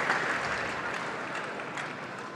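Table tennis crowd at a 2012 final applauding a player's fair play, a steady broad wash of clapping that holds at an even level throughout, fading only slightly toward the end.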